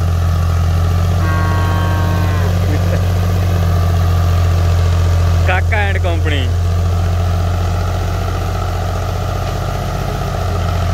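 A tractor engine idles steadily in the foreground while the tractor sits stuck in mud, a continuous low rumble running the whole time as people talk over it.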